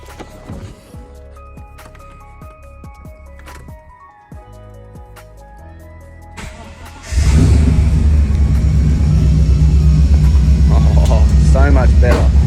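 A supercharged Holden VZ Alloytec ute fires up about halfway through after quieter background sounds, then settles into a loud, steady, deep engine rumble close by.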